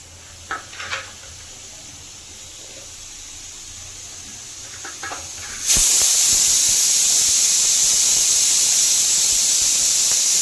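A pressure cooker cooking pongal releases steam in a sudden loud, continuous hiss that holds steady for several seconds, after a few faint clicks.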